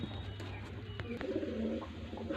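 Soft, low cooing of a golden pigeon rumbles close by in a quiet room, with a few faint clicks and rustles around it.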